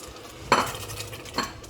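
A spoon scrapes and stirs through egusi melon seed soup in a cooking pot, giving two brief clattering strokes about a second apart over a quiet background.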